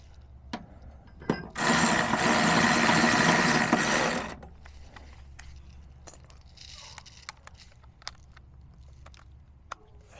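A power tool tightens a bolt on Cybertruck running boards, one sustained whirring burst of about three seconds, close and fairly loud, with scattered clicks and knocks around it.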